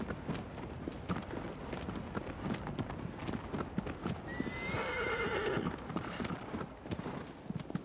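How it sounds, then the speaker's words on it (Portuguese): A horse trots through a forest in the video game Shadow of the Colossus, with steady hoof clip-clops throughout and a neigh partway through, all fairly quiet and with no talking. "Agora o cavalo vai andar bem devagar."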